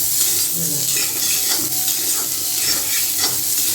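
Small onions sautéing in a pan, a steady close sizzle with repeated stirring scrapes throughout, no talk.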